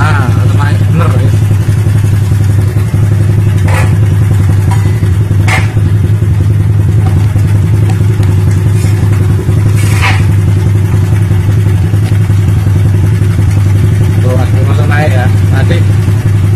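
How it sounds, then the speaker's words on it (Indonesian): A Honda Blade motorcycle with a weak, repeatedly draining battery runs loud and close, settling into a slow idle and then being revved in short blips, with a steady low rumble and occasional clatter while people talk over it. "Ini baru stasioner nih, lambat. Terus digas-gas"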